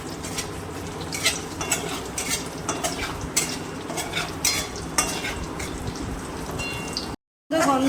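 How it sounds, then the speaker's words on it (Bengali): Whole garam masala (cardamom, cinnamon, cloves and dried red chillies) sizzles in hot oil left from frying prawns, with close spatula stirring and scraping against the pan and intermittent speech over the crackling. "আমি এই তেলেই, এই চিংড়ি মাছ ভাজার তেলেই আমি ফোড়ন দিয়ে দেবো গোটা গরম মশলা।"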